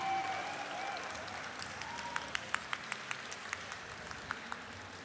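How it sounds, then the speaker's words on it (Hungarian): Audience applause at a cosplay competition award ceremony in Budapest, greeting the best costume winner; broad, fairly quiet crowd clapping with a few sharper individual claps standing out, at a distance and without talk. "Nagy tapsot kérünk szépen a legjobb kosztüm nyertesének."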